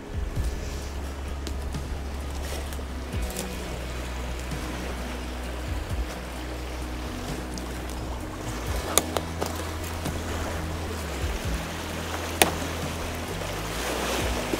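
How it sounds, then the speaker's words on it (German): Small waves lap steadily onto a stony, sandy lake shore in Canada, a close continuous wash and splash with occasional brighter ripples and a low wind-like rumble. "hier plätschern gerade die Wellen an den Strand"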